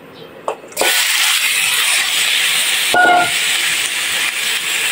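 Pork belly drops into hot olive oil with a soft tap, then bursts into a loud, steady sizzle and hiss that carries on throughout, with a brief bright scrape of a pan partway through.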